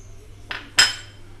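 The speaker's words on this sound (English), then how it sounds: "Now take a pressure cooker." A metal pressure cooker is handled in a kitchen, giving two close clanks about a third of a second apart, the second louder and ringing briefly, with no speech.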